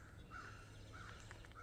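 Crows caw faintly in the distance along the Appalachian Trail, a few short harsh calls spread over a quiet background of woodland ambience.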